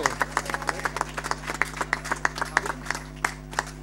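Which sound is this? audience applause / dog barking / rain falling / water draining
audience applause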